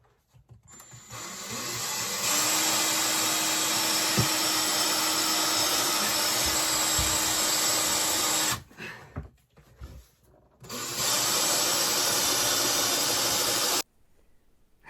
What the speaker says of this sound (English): I'm going to drill straight into the wall.